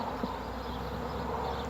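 Honeybees buzz faintly and steadily inside an open beehive while a queen excluder is being installed, a soft continuous hum with no voices.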